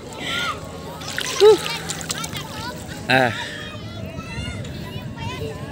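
Splashing and sloshing in the clear water of the Anggat River in Norzagaray, a steady wash of water movement with a couple of louder splashes, under adults and children talking.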